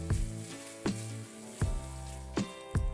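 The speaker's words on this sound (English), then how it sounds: "Now let's cook the bacon." Bacon sizzles in a pot for a beef stew, a steady close frying hiss punctuated by four or five sharp, regularly spaced clacks as the pieces are stirred or moved.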